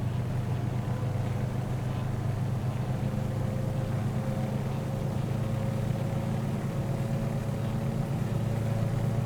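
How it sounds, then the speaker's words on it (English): The twin engines of a Beechcraft 18 in Microsoft Flight Simulator drone at 2000 RPM during a run-up, a continuous low rumbling hum with a steady throb and no speech. "Again, the engine sound so far pretty so-so"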